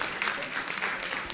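Audience at a democracy forum breaks into a brief, moderately loud burst of clapping lasting just over a second.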